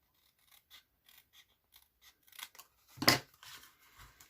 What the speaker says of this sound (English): So once that's on, I just trim off the back here.